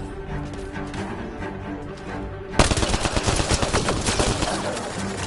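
Mass Effect Andromeda combat: after a stretch of muffled game noise, dense rapid gunfire bursts in loud and close, continuing as a sustained volley of shots.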